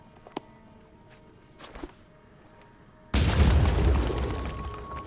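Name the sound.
frag grenade explosion in video game Phoenix Point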